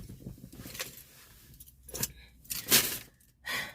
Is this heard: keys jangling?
yes